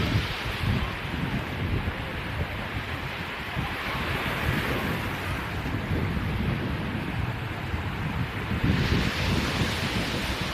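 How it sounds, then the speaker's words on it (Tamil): Gentle sea waves wash steadily onto Velankanni beach in Tamil Nadu, a continuous soft roar of surf with wind buffeting the microphone, close and fairly loud, with no voices. "இந்த பீச் வந்து பார்த்திங்கன்னா அலைகள்லாம் ரொம்பவே கம்மியாக தான் இருக்குது"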